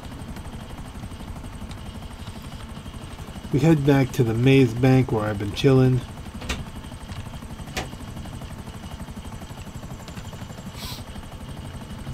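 A helicopter in GTA 5 Online flies with a constant loud rotor thrum throughout, and someone talks over it for a couple of seconds.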